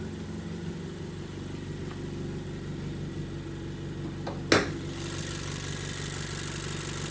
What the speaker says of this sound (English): now to show you guys the engine real quick before I start waxing